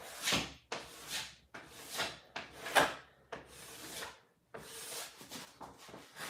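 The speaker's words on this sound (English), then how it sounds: "We're pretty much almost done scraping." Repeated scraping strokes of a plastic scraper pulling hardened wax off the base of a Capita Mercury 2025 snowboard, each stroke a rough rasping sweep in a steady back-and-forth rhythm, close and fairly loud with short pauses between passes.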